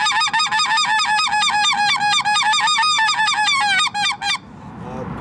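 A handheld goose call is blown in a rapid, continuous run of loud, nasal honks for long-range calling, with the rhythm stuttering near the end before it stops abruptly.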